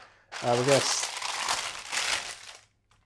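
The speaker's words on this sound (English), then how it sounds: "we are gonna actually use some butcher's paper or parchment paper." Crisp crinkling of butcher's or parchment paper being handled for a couple of seconds, up close, with a short voice sound near the start.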